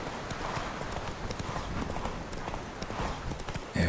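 Horse hooves clip-clop at a steady trotting rhythm in The Witcher 3 video game, close and continuous, with a brief louder thump at the very end.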